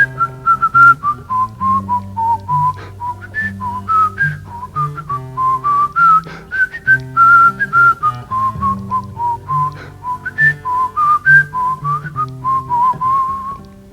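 A person whistles a lively, repeating folk melody meant to imitate a fiddle played on one string, with clear, close notes in a bouncing rhythm and no other sound.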